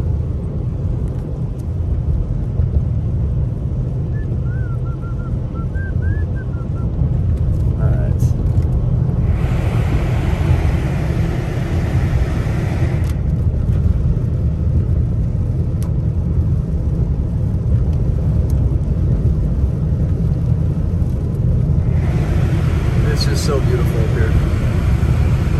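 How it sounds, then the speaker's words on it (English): Heavy thunderstorm rain pours down at Big Bear Lake, California, a loud, steady roaring wash that continues unbroken throughout with deep rumbling underneath. "these are some decent thunderstorms out here right now"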